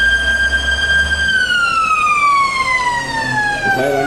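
A fire engine siren wails loud and close during a fire drill at a government hospital, its tone sliding steadily down as the vehicle arrives, with an engine rumble underneath.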